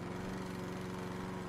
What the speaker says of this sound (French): C'est quoi cette tondeuse?